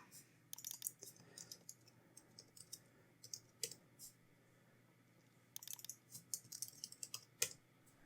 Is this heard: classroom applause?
no